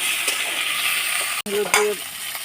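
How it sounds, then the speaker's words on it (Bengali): Potatoes frying in a pan give a steady, close hiss of sizzling oil, briefly interrupted by a stir and a soft clink of a utensil. "আলুগুলোকে প্রথমে লাল লাল করে ভেজে নিতে হবে।"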